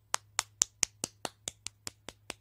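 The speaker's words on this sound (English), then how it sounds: "Everybody clap." A group claps together: about eleven sharp, evenly spaced hand claps in a steady rhythm, close and crisp, with no talking.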